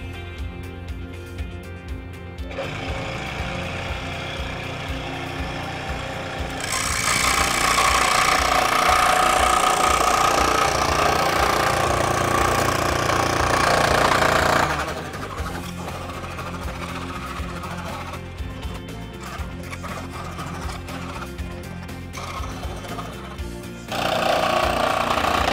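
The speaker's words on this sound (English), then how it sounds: "And now we go to the jigsaw." A jigsaw cuts a bear shape out of a piece of wood, its motor buzzing steadily and close with no talk. The blade's rasp grows louder and harsher through a long middle stretch and again near the end.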